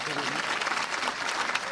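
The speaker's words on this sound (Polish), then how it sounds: "Brawa dla Adriana Szczepaniaka." A crowd applauds the pianist Adrian Szczepaniak at a book launch event. Steady clapping fills the moment while a voice speaks briefly over the start.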